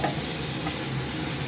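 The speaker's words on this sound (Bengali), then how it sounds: "ভেজে নিচ্ছি" Continuous close sizzling of ridge gourd, potato and green chillies frying in hot oil, an even hiss with faint stirring movement and no talk.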